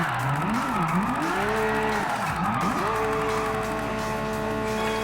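Porsche 911 GT3 RS drifting in Gran Turismo Sport, its engine note swooping up and down through the slide while steady tire squeal runs loud and continuous beneath.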